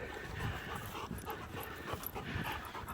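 A big dog panting on a walk, rapid rhythmic breaths close by with small whimpers, over outdoor background noise and no talking.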